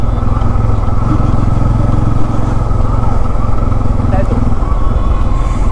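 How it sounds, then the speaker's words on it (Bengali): A motorbike rides along a riverside at Gadiara, its engine droning steadily and loudly up close with a low throbbing hum and wind buffeting, while someone seems to talk over it. "চলো মোটামুটি নদীর ধার দিয়ে বাইকটা এক পাক চালিয়ে আসি।"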